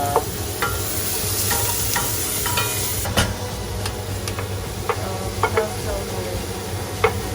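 Onion and garlic fry in a pan with a steady close sizzle, broken by frequent clinks and scrapes of a utensil stirring them.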